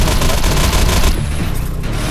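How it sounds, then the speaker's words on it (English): Shotgun fire in the video game Defiance, a loud dense burst of blasts that fills the first second and then settles into a rougher, quieter rattle of gunfire. "I'm shooting him in the head with a shotgun"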